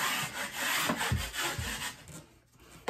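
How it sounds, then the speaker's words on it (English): A drywall knife scrapes joint compound across a butt joint, making a close, rasping scrape in repeated strokes with no talking. "I'm gonna coat both sides. I'm gonna scrape it down."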